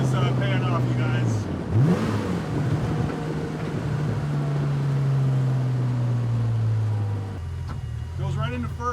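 A car with an upgraded drivetrain revs and accelerates through its gears, its engine note rising and falling with shifts and buffeted by wind noise. A person talks over it.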